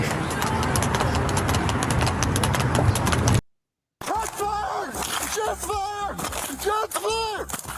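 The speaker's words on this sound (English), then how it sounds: "can we just play the horse running down" Horse hooves clip-clopping at a run, a steady rapid beat in the first three seconds, then after a short gap a voice talks over a busy background.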